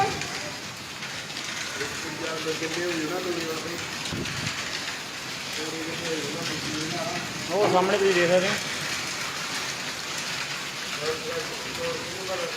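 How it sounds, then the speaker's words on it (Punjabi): Steady heavy rain with hailstones hisses across the whole scene, with a person talking over it and a brief louder patter partway through. "ਗੜੇ ਵੀ ਨਾਲ ਡਿੱਗ ਰਹੇ"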